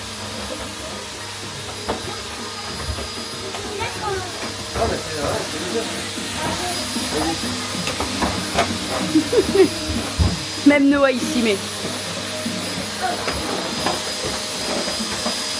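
A vacuum cleaner runs steadily with a broad whooshing roar inside a boat being cleaned, while people talk over it throughout.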